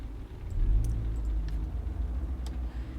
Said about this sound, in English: All at once, you start the cab.